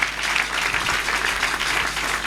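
Dense, steady applause from a congregation at a Catholic Mass for the Feast of the Most Holy Sacrament, many hands clapping together loudly and evenly throughout, with faint voices mixed in.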